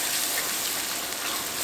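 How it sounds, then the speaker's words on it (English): About 150 grams of tomato paste fries in a pan for vodka penne, giving a steady, bright, hissing sizzle that fills the moment without pause. "So we just want to cook this tomato paste a little bit."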